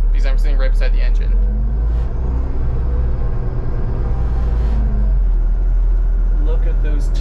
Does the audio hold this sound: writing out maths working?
no